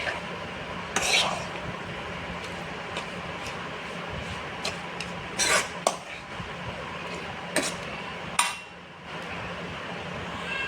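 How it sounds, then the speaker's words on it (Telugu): Drumstick pickle is stirred as mustard and fenugreek powder are mixed in, giving a steady close scraping with occasional sharper clinks of the spoon against the vessel, and no voices. "ఒక్కొక్క స్పూన్ ఆవాల పొడి వేసి బాగా కలుపుకోవాలి ఫ్రెండ్స్"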